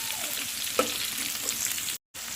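Carrots being stir-fried in a pan for vegetable noodles, a steady close sizzle and crackle running throughout, with a faint clink of a utensil and a brief cut near the end.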